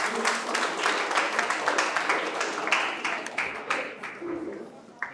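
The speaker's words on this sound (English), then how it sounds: "Please give them a good round of applause." Audience at a school debate gives a round of applause after a school anthem rendition, dense clapping from a crowd in a hall, fairly close and steady, gradually thinning toward the end with some voices mixed in.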